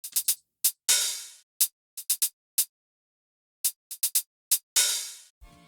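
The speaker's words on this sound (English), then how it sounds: "The hi-hat pattern sounds like this." Crisp hi-hat hits play alone in a sparse rhythmic pattern of short closed ticks and a couple of longer open hits, close and clear.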